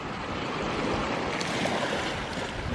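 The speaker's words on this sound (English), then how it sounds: "just like the noises of the ocean" Ocean surf rolling onto a Hawaii beach, a steady broad wash of breaking waves with wind rumble across the microphone, continuous and fairly loud with no voices.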